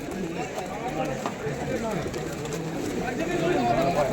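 Pigeons at the Galiff Street pigeon market in Kolkata give soft, repeated cooing calls close by, with a continuous murmur of people talking in the background.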